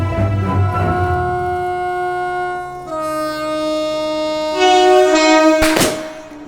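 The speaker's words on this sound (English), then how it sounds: "Yes, it's a train arriving." A train arrives on China's New Silk Road freight route, with long sustained horn-like tones and steady rumbling that build toward a loud burst near the end.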